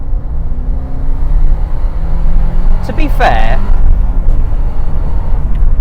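A 1993 Porsche 968 on the move, its engine a loud, steady low rumble with road noise throughout, while someone speaks briefly over it partway through.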